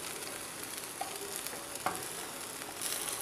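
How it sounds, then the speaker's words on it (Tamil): Mixed vegetable paneer fried rice sizzles steadily in a hot pan while being gently stirred and lifted, with a couple of soft utensil scrapes against the pan and no talking. "அரிசி வந்து உடையாமல் பன்னீரும் உடையாத அளவுக்கு பார்த்து பொறுமையாக அப்படி தூக்கி விட்டு கிளறி விடுங்க."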